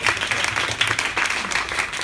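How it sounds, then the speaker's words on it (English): An audience at an innovation accelerator event in Tokyo applauds a presenter, a steady patter of many hands clapping close and fairly loud throughout. "So please give Ono-san a round of applause."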